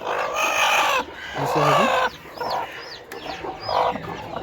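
Hens clucking nearby while small chicks peep in high, thin bursts, a busy farmyard chatter with no talking.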